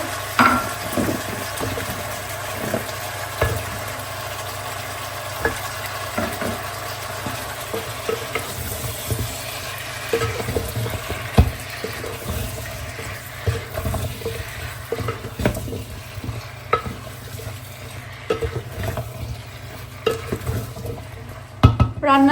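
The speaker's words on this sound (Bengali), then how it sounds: "আজকে চিংড়ি পোয়াটা এভাবেই ধুয়ে ফুটে নেওয়া হচ্ছে" Shrimp being washed and cooked in a pot, steady watery bubbling and sizzling with frequent stirring clatters and scrapes against the pot, close and continuous throughout.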